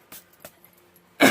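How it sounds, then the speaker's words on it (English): A single sharp cough comes near the end, loud and close, after a few soft clicks and faint rustles in an otherwise quiet room during a watercolor painting session. "Excuse my cough."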